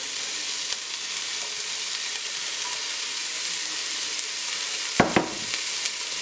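Chopped celery fries in a pan for shrimp creole, giving a steady close hiss and sizzle throughout, with a brief louder clatter of stirring near the end.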